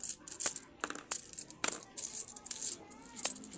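Many coins dropping and rattling close by, a string of bright metallic clinks at irregular intervals with short pauses between bursts.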